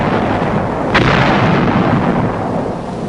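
A demolition blast set off by wartime combat engineers in World War II: a single heavy, booming detonation lands about a second in, followed by a dense, rumbling roar that lingers at high level without fading.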